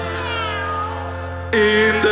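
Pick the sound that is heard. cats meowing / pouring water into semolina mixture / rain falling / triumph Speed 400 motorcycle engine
cats meowing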